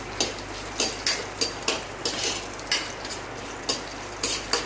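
Garlic, ginger and green chilli frying in a pan while a spoon stirs them, with a steady sizzle under repeated scraping strokes at a quick, uneven rhythm, close and fairly loud, no talking.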